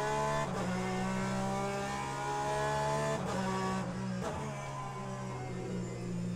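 Porsche race car engine in the sim racing game Le Mans Ultimate, a loud, steady, harmonic drone held close, with brief breaks in the tone as gears change, and no talking.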